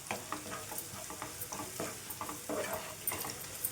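Spoon stirring cumin and coriander powder through a fish curry masala in a hot pan, a steady scraping churn over soft frying sizzle, close and continuous with no talk.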